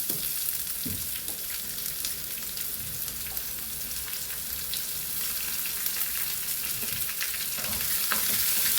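Onions frying in a pan for a Kerala fish curry, a steady dense sizzle with faint crackles and occasional stirring scrapes, close and continuous without any talk.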